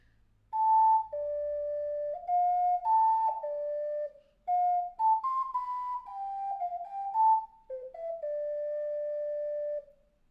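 An ocarina plays a melody, pure whistle-like sustained notes in a slow stepwise phrase with brief gaps, close and clean with no talking.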